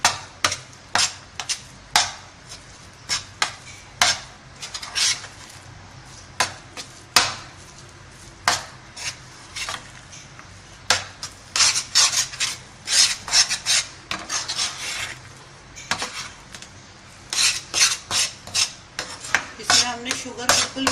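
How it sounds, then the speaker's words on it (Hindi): Fried khoya being stirred into a coconut burfi mixture, a steady run of scraping, rasping strokes of a spoon against a pan, close and fairly loud, repeating in irregular rhythm without talk. "अब अच्छे से इन सबको मिक्स करेंगे।"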